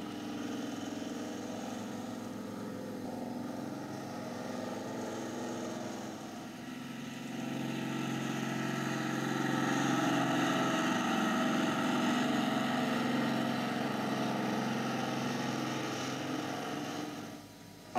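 A Magirus-Deutz truck is driven in endurance testing over rough surfaces, sand, mud and steep passes, its engine rumbling steadily at a distance and swelling somewhat louder midway before easing off, with no talk.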